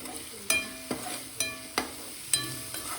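Curry leaves, asafoetida and cumin sizzle in hot oil for a tempering, a soft hiss broken by four or five sharp metallic spoon clanks against the pan.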